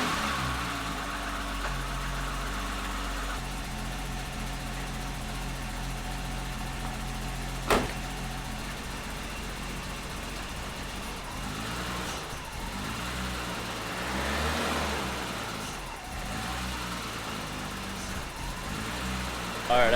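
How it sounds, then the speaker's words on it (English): A BMW E30 idles once warmed up, a steady low engine hum that runs evenly through the clip with a few faint clicks and shifts in the background. "The idle definitely calms down once it's up to temp."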